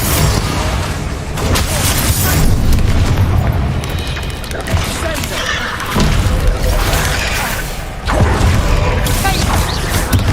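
Repeated Bombarda explosion spells boom loudly in Hogwarts Legacy amid chaotic combat noise, with several heavy blasts recurring across the stretch and a voice speaking at times.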